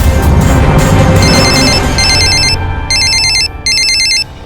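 A mobile phone rings loudly up close, a repeating electronic ringtone in bursts with short gaps, starting over a brief noisy moment.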